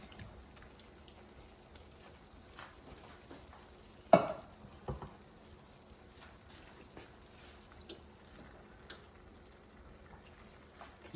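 Crushed tomatoes are poured into a pot of tender cooking vegetables. One loud wet plop stands out, followed by soft sizzling, stirring and scattered drips over a quiet background.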